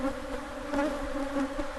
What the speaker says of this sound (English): So these bees have chased our truck for 10 miles.